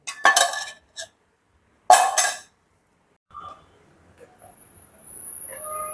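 A metal lid is set onto a pot of cooking ragi sankati with a couple of sharp clanks and clinks. Quiet kitchen sounds and faint background noise follow.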